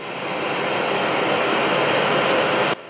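An Airbus A319 passenger jet arrives at Anapa international airport from Moscow, its engines giving a loud, steady roar that holds throughout and then cuts off abruptly.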